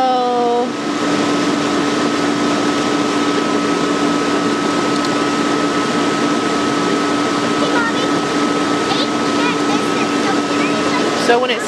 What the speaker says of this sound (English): it's just pumping the water through